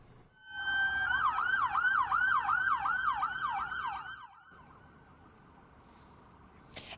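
Police escort sirens wail in rapid rising and falling cycles for returning Iowa Guard soldiers in Sioux City, moderately distant, then the siren stops, leaving quiet street ambience.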